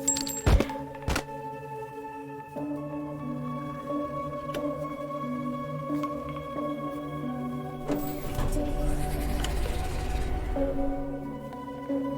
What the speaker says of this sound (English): Cock the gun.